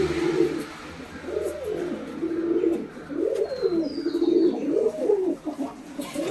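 Active flying pigeons coo inside a cage, repeating low rising-and-falling phrases in a steady rhythm, close and clear, with a faint higher chirp partway through and no talking.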